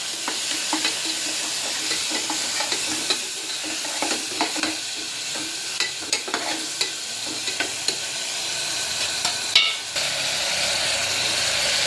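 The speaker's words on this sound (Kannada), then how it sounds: "ಸೊ ಈ ಥರ ಹಿಂಗೆ ಚಲೋ ಫ್ರೈ ಮಾಡ್ಕೋಬೇಕು" Onion and tomato fry steadily in a pan, a continuous bright sizzle broken by the scrape and tap of a spoon stirring, close and fairly loud with no voices.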